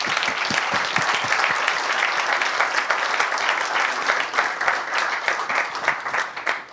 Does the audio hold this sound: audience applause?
yes